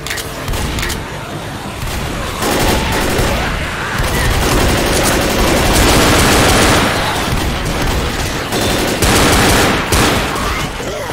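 Dense bursts of gunfire in the video game Left 4 Dead, rapid automatic shots mixed with booms and blasts, sustained and loud throughout with a game-like battle texture.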